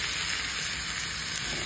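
Squid and chili sautéing in a hot pan for an adobong pusit sa gata, giving a steady, close sizzle that holds evenly throughout with no voices.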